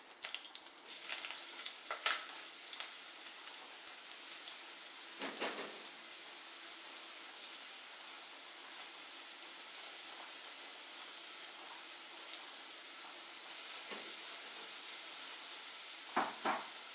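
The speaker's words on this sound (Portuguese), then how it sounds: "enquanto vai fritar o alho e a cebola" Garlic and onion sautéing in a pan for a creamy chicken pie filling, a quiet, even sizzle with a few scattered stirring scrapes and clinks, no voices.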